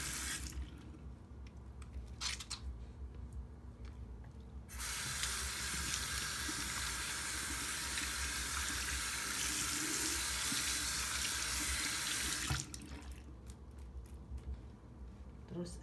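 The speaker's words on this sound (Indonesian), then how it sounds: "Pertama kita cuci dulu tangan kita yang bersih." A bathroom tap runs steadily as hands are washed before a nail-cleaning routine, a broad hiss of water starting after a few seconds and flowing for about eight seconds before cutting off, with quieter room noise around it.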